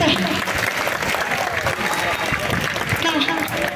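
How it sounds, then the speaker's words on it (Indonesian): Audience clapping steadily for the pesantren at a closing celebration of its founding anniversary, dense and continuous with some crowd voices mixed in. "Tepuk tangan buat pesantren kita."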